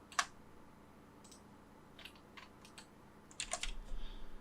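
Light clicks of keys on a computer keyboard tap out a short command in AutoCAD, followed by a brief flurry of presses that ends on the Enter key; quiet, close and alone.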